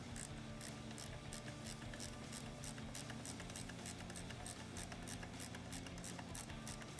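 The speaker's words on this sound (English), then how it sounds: "So we'll get a ratchet on there." Ratchet wrench clicking steadily as it tightens a bolt into a Triumph 650 motorcycle engine crankcase, a fast continuous run of close, crisp pawl clicks with no talking.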